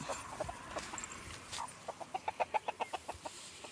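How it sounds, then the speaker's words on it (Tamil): A rapid, evenly spaced run of clucks from a rooster, moderately faint, over outdoor background noise. "பெரிய சேவல் ஒன்று இருக்குது பாருங்கள்"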